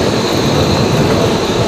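A city tram rolls along at speed, a loud, continuous broadband rumble and rail roar heard close up from on board, steady throughout with no talking.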